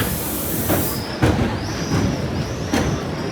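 A tram in Mallorca, Spain, rolls by nearby with rumbling wheels, a few rhythmic clacks over rail joints and a faint high squeal from the wheels.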